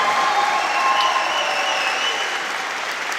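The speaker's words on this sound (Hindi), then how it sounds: "देखते तालियां कैसी बजती है, जोर से।" An audience at a church sermon breaks into loud, sustained applause on request, a dense steady clapping that carries through the whole stretch and eases slightly toward the end, with a few faint cheers mixed in.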